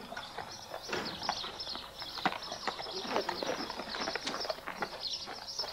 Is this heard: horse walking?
yes